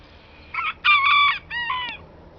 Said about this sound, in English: that's my roosters, big tough roosters, going to protect these giant hens